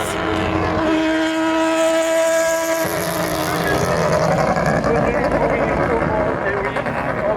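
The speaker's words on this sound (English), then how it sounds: "That car is idling." The 1991 Le Mans-winning 787B, a pistonless rotary race car, idles loudly with a droning, buzzing engine note. It sits close by amid crowd noise at Le Mans, and people talk nearby.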